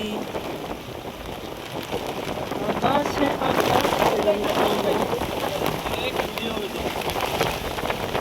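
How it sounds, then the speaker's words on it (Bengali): Heavy rain pouring down over a jungle during a safari, a dense, continuous hiss of drops that grows slightly louder midway and holds steady. "প্রচন্ড বৃষ্টি নামছে দেখতে পাচ্ছ"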